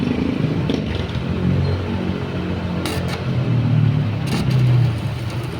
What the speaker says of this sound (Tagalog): Start yung motor, naka-start.